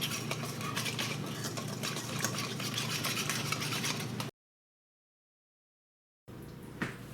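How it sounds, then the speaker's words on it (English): A sauce of rice wine vinegar, lemon and lime juice being whisked in a bowl, a quick continuous rattling of the whisk against the sides, fairly quiet, broken by a stretch of dead silence before a brief return. "And so I'm just going to whisk that up."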